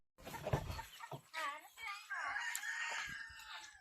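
Backyard chickens in front of a house, a rooster crowing in a drawn-out call amid nearby clucking, fairly faint and close, with a brief voice.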